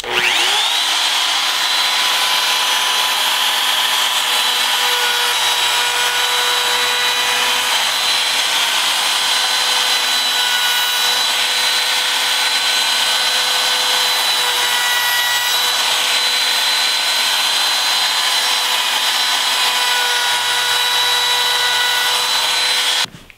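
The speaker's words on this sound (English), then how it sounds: "I'm going to use my router with a small roundover bit" A router fitted with a small roundover bit shapes the edge of a wooden easel part, a loud, continuous high-pitched whine with slight dips in tone as it cuts, close by and uninterrupted.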